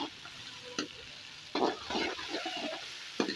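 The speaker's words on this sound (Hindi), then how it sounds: "इसे मैं फ्राई करूँगी, एक दो मिनट के लिए इसे फ्राई करूँगी।" Garlic, tomato and ginger-garlic-chili paste fry in a pan with a soft, steady sizzle, broken by a few louder stirring scrapes and clatters at close range.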